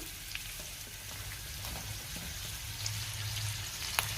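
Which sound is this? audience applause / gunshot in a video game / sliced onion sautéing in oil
sliced onion sautéing in oil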